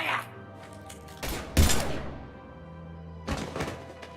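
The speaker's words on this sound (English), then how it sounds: "Now open fire!" Gunfire in the video game Mass Effect 3 Legendary Edition, a few heavy, sharp blasts spaced apart, the loudest in the middle, over a low game background hum.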